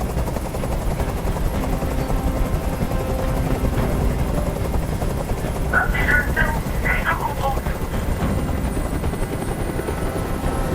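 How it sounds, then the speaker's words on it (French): A helicopter's rotor roars loudly and steadily throughout, with brief faint voices rising in the middle. "Je peux plus supporter ce bruit. Fais dégager cet hélicoptère, maintenant."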